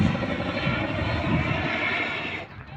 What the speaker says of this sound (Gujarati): આપણે જઈને હેલિકોપ્ટર ઉતરશે.